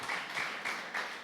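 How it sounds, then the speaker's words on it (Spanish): Church congregation clapping after a call to applaud Christ Jesus, a steady run of hand claps in rhythmic pulses, moderately loud and without voices. "fuerte aplauso a Cristo Jesús."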